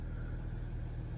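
The diesel engine of a 2015 Ram EcoDiesel pickup truck runs with a steady, low, close rumble for a brief moment, with no voices.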